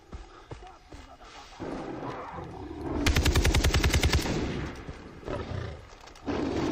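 Gunfire in Far Cry 3: a rapid burst of close, loud shots rattles out in the middle, set between quieter rustles and impacts of an animal attack scene.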